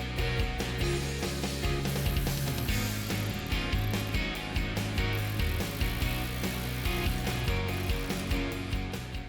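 A hand ratchet spins out T40 Torx bolts beneath the rear bumper of a 2023+ Chevy Colorado, its rapid metallic clicking steady, loud and close throughout with no talk.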